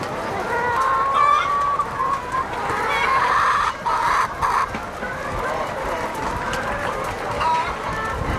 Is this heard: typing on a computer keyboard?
no